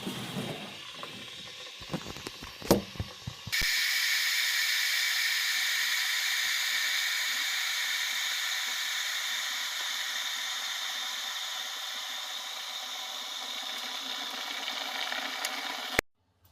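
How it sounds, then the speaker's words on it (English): An electric kettle heats water to a boil with a steady, loud hiss that starts abruptly after a few faint clicks and rumbles, holds unbroken for about twelve seconds, then cuts off sharply. "Now that the kettle is fully boiled"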